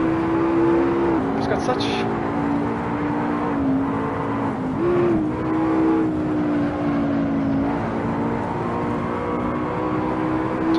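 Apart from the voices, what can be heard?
race car accelerating in Assetto Corsa video game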